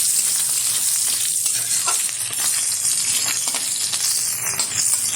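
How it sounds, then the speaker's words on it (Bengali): Lentil dumplings (bori) fry in oil left over from frying fish, giving a close, continuous sizzle with scattered crackles and pops and no talking. "এই তেলে আমি ভেজে নেব কিছুটা বড়ি।"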